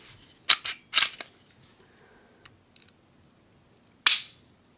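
Kahr CW9 9mm pistol with a double-action striker trigger being dry-fired, sharp metallic clicks in a quick cluster, then a pause and one more crisp snap, close and alone.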